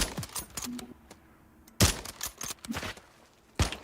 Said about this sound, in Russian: Еще откуда-то стреляет.